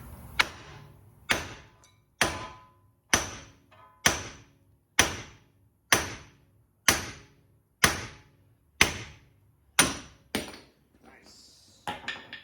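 A hammer strikes the wheel hub of a 2013-2017 Dodge Dart in a steady series of about a dozen loud, ringing metallic blows, each roughly a second apart and fading quickly, close to the listener.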